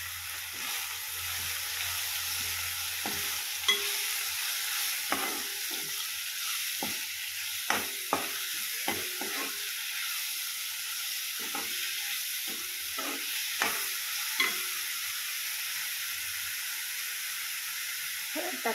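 Chopped mushrooms fry in a pan with a soft continuous sizzle, broken by intermittent scraping and tapping as a spoon stirs them, close and moderately quiet with no talking.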